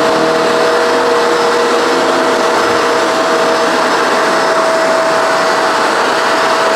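A Shark NV752 vacuum cleaner runs on a rug with its suction port open, producing a loud, steady whine and airy roar that holds constant throughout with no speech.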